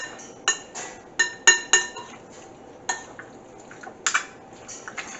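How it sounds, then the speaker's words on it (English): A metal spoon stirring garlic pork in a dish, giving sharp clinks and scrapes in an irregular rhythm of about a dozen hits, close and fairly loud, with no voices. "So I'll just give this a stir and make sure they all get in contact with the garlic."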